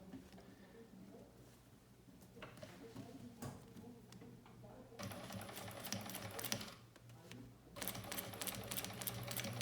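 A sewing machine stitches a cushion with an invisible zipper, starting with soft intermittent taps and then running in longer fast rattling bursts, close and steady, with a voice speaking quietly at times.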